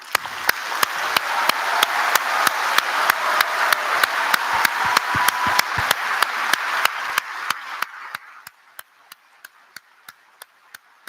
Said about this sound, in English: If we can pause for some applause.